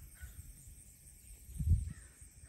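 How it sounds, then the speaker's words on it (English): Crows cawing outdoors on a ranch in the morning, giving a few harsh, moderately close calls that rise to one louder caw near the end, over faint background noise. "Crows."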